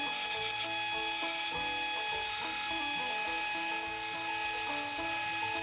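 A 60 grit ceramic belt on a belt sander grinds G10 handle scales on an EDC knife, a close, continuous abrasive hum and rasp with a steady motor tone and small rhythmic shifts as the piece is worked.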